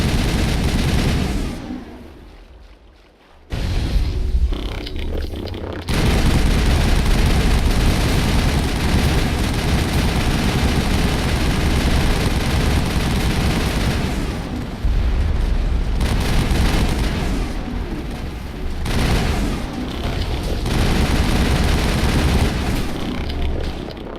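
Sustained heavy gunfire and explosive bursts in a Mass Effect firefight against Geth turrets on Virmire, loud and continuous with brief lulls, one near-silent gap early on.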